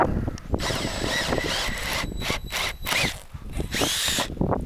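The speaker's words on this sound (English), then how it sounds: "Drill a big hole in the roof." A power drill bores a large hole through an RV roof for a solar panel install, whining loudly in uneven bursts with squeals as it bites and stalls.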